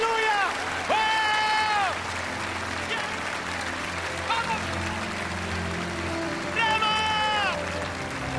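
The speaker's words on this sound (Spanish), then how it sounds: "¿Cuántos dan un aplauso al Señor por eso dicen lo creo?" A church congregation applauds in steady, dense clapping that carries through the whole stretch, while a preacher's voice rises above it with sustained, singing calls.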